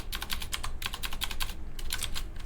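Rapid keystrokes on a computer keyboard as a zip code is entered, several bursts of close, crisp clicking with a short pause between them and no speech.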